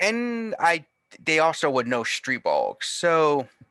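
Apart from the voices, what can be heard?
No everyday noises stand out.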